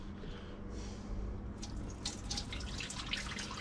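Pre-soak water poured out of a film developing tank for 4x5 sheet film, a steady splashing trickle into a sink that grows brighter and louder halfway through, close by with no talk.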